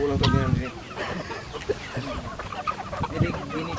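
Native chickens cluck repeatedly at close range on a farm, with soft, irregular calls over a busy background of other noise.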